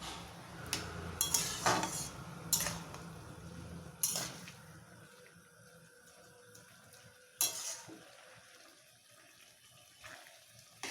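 Coconut and ash gourd sweet is stirred in a pan, soft sizzling under intermittent spoon scrapes and metallic clinks, busier at first and then sparser with quieter gaps, nearby and without voices.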